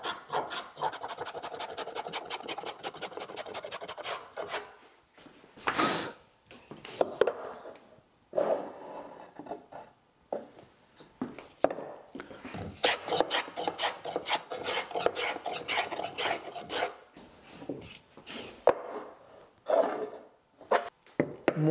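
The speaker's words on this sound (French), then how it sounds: "On a bien sûr de l'arrachement, on fait des gros copeaux" A No. 62 hand plane takes heavy shavings off rough wood in repeated rasping strokes, close and loud, with short pauses between bursts.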